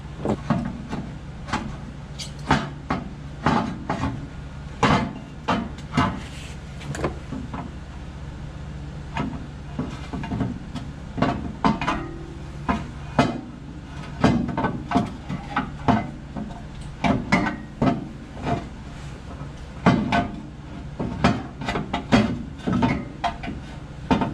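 A metal oil pan is worked into place beneath a third-generation car engine, giving irregular sharp metallic clanks, knocks and scrapes at close range over a steady low hum, with no talking.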